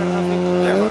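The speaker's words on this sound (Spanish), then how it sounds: "se viene un coche por ahí" A rally car on a competition stage roars past with a steady, loud engine drone, the pitch shifting slightly as it goes by close to the roadside.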